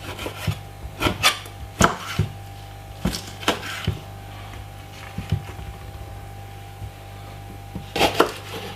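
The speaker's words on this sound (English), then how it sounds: "I have half of a lime. I'm just gonna remove the skin from it." Knife scraping and cutting away the peel from half a lime on a board, a series of short, irregular scraping strokes close by with gaps between them, no talking.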